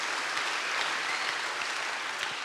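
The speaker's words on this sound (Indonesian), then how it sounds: "Tepuk tangan bagi dia, saudaraku" A church congregation at a Sunday service claps in a steady, dense wash of applause, moderately loud and continuous throughout, with no voices over it.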